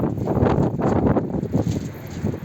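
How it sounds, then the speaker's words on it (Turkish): Loud gusting wind buffets the microphone in uneven, rumbling surges. "Rüzgar bugün var arkadaşlar"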